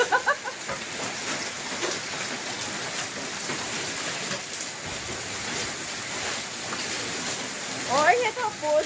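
Heavy rain with hail hisses steadily over everything, a dense constant downpour, with a few brief voices speaking near the start and end.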